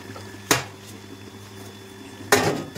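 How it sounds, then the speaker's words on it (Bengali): A lid comes off a pot of simmering chicken kosha: two distinct metallic clanks of lid against pot, separated by a quiet stretch of low background noise. "তো এবার ঢাকাটা আমি তুলে দেবো"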